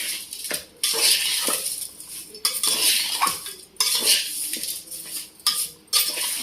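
Raw chicken pieces being mixed in a bowl with turmeric, coarse salt and ginger-garlic paste for gongura chicken, giving repeated wet squelching and scraping bursts at a steady hand-mixing rhythm, close and fairly loud, with no talk.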